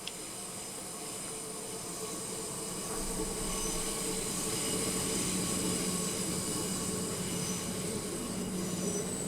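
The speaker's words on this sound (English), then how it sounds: "It's confirmed it is a train." A train in Train Sim World 5 on the East Coastway line rumbles past steadily, growing a little louder midway, with a continuous hiss and faint wheel squeal over the rolling noise.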